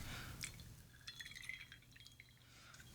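Bourbon trickles quietly into a glass as a faint, close liquid pour with soft drips and small glassy clinks, ending in a sharper knock. There are no voices.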